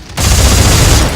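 Rapid-fire weapon shooting in the video game Dead Space 3, a dense, loud burst of continuous gunfire kicking in after a brief quiet moment and sustained throughout.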